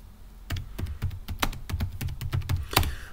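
Fingers typing a command on a computer keyboard, a quick irregular series of close, crisp key clicks with a few louder taps near the end.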